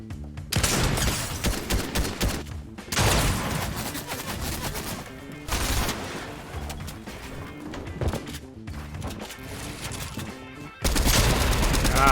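Video game gunshots ring out in loud, repeated bursts of rapid fire, broken by short pauses. The shots come from a max-damage bump shot weapon.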